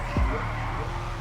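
In GTA 5, a Drift Yosemite car slides with a brief tire skid over a steady engine drone, the squeal short and near, while a voice talks over the game.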